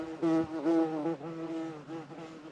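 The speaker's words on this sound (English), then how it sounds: "Hello, bee." A bee buzzes in a wildflower and sunflower field. Its close, humming drone wavers in pitch for a couple of seconds against a quiet background.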